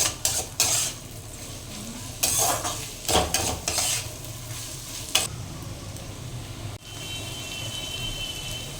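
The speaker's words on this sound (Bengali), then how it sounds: "এবার আমি এখানে দিয়ে নেব পেঁয়াজ এগুলো সবই কিন্তু একটু হাই ফ্লেম করেই ভাজতে হবে" Onions frying on high flame for dhaba-style egg tadka crackle loudly in bursts, with a spatula stirring and scraping against the pan and metal clinks between steady sizzling stretches.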